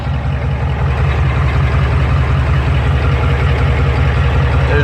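A 1991 Ford F-350 cab-and-chassis truck idles with a loud muffler, a steady deep exhaust rumble that stays constant and close throughout, with no talking.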